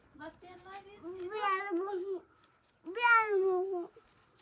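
A cat meows twice, two drawn-out, rising-and-falling cries with a short pause between them, close and clear indoors.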